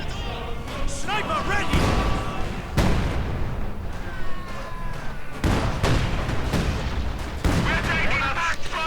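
Field gun barrage in Company of Heroes 2 during a World War II battle: several heavy, booming artillery blasts spaced a second or two apart, with a voice commentating over the battle noise.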